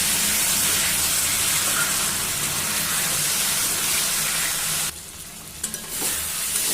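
Fish curry (macher jhol) with fried potatoes sizzles loudly in a pan after water is added, a steady hissing fry that drops briefly near the end before resuming.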